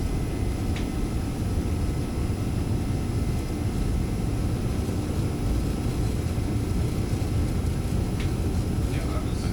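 Boeing 737-300 jet rolling down the runway and rotating for takeoff in the X-Plane 12 flight simulator, a steady broadband engine roar held at constant loudness throughout with faint cockpit callouts beneath it.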